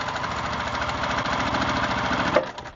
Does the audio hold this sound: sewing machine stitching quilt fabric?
yes